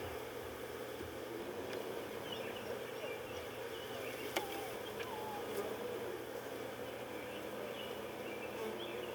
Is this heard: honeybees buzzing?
yes